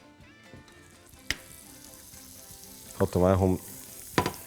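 Oil heats in a frying pan for a steak and beef bacon sandwich, giving a soft, steady sizzle with a few clinks. A short burst of speech comes near the end.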